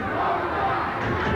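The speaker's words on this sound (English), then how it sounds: "the crowd braving the cold conditions here tonight, calling for the Bulldogs" A rugby league crowd at a cold night match, Canterbury Bulldogs against Cronulla in the 1980 Tooth Cup, chanting and calling for the Bulldogs as a steady, massed roar from the stands.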